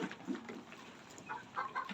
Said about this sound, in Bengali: এই যে দেখেন টাইগার মুরগি।